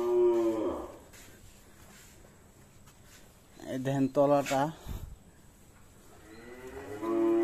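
Jersey cattle in a farmyard give a couple of close, drawn-out moos at the start, middle and end, with someone talking briefly between them.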